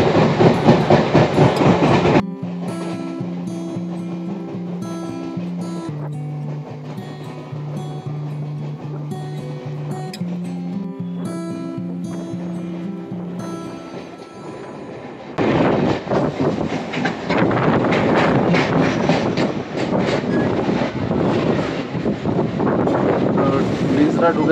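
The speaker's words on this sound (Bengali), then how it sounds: "ট্রেনটা ছাড়ল 9:38 নাগাদ" A Howrah–Arambagh local train runs on the tracks, giving a loud, steady broadband rumble with rushing wind noise at the start and again in the last stretch, while tonal music replaces it through the middle.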